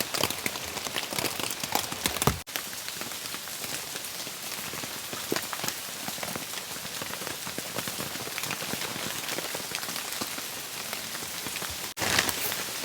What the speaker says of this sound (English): it's kind of drizzling out and it's dripping down off all the leaves